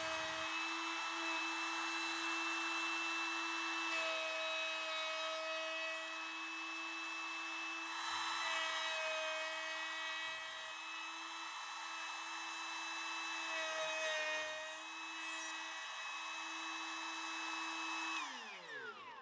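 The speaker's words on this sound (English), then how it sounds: "give the box a good sanding" A power sander whines steadily for nearly twenty seconds with slight pitch shifts, close and loud, sanding a wooden box, then winds down at the end.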